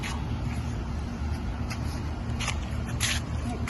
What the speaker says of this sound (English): So we get a car sound.